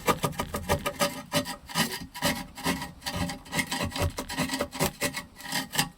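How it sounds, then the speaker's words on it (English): Old glue being scraped off a wood burning stove during a gasket rope replacement, a steady rasping, rubbing scrape repeated in quick strokes, close and fairly loud with no talk. "you've got to get the glue off, otherwise it's not going to last"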